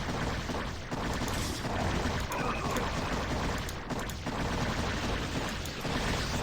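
High Templar psionic storms crackle during a StarCraft match among a dense barrage of in-game combat effects, with rapid bursts of explosive static and booming impacts layered thickly and continuously at moderate volume.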